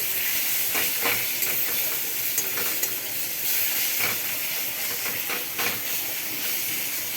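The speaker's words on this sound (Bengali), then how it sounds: "পেঁয়াজ বাটা আর পেঁয়াজ কুচিটা খুব ভালো করে কষে নিতে হবে" Onion paste and chopped onion fry in oil in a pan for a yogurt chicken curry, giving a steady hissing sizzle with a few soft stirring scrapes, close and continuous with no speech.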